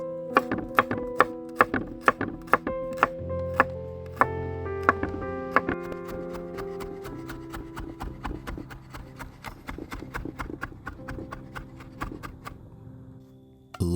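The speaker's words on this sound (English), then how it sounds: "We'll prep this by giving it a fine mince." A knife finely minces garlic on a cutting board, dozens of quick close chops in a steady rhythm with background music underneath throughout.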